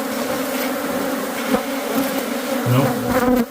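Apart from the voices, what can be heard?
bees buzzing around gazebo weep holes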